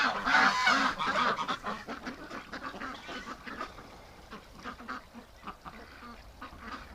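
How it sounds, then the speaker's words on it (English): Domestic ducks and geese wintering outdoors honk and quack together, loud overlapping calls at first that settle into a steady, softer run of chattering quacks nearby. "Oh, little ducks. They're so silly."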